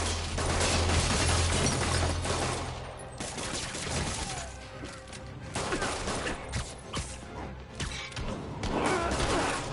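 Gunfire in a Spider-Man scene: a dense, loud stretch of rapid shots and crashing impacts, with a louder burst at the start and more bursts near the end.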